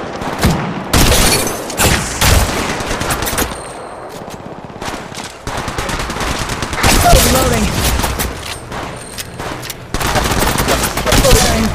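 Rapid automatic gunfire and bursts of shots in the Apex Legends Mobile game, loud and close, coming in several long volleys with short gaps between them, plus occasional booms. A game voice speaks briefly over the shooting.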